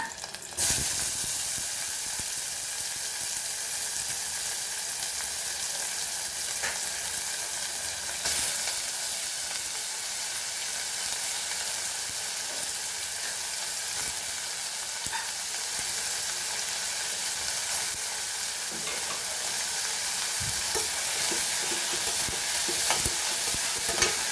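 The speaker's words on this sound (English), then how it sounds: "Now we'll add onion to this and fry nicely." Onions fry in a hot pan for a Goan crab chilli fry, giving a steady, close sizzle throughout with occasional scrapes and clinks of a spoon stirring them.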